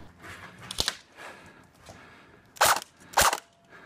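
Airsoft gun shots fired at an RV and a pallet during an outdoor game in Erie, Colorado: two sharp, loud snapping bursts close together near the end, after a fainter earlier pop and light background rustle.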